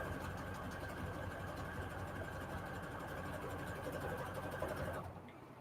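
A sewing machine runs steadily through a bold decorative stitch on faux quilt junk journal pockets, a continuous close mechanical whir that stops abruptly near the end.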